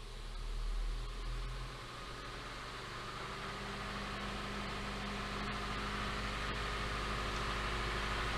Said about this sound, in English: So I'm just gonna start raising the RPM now.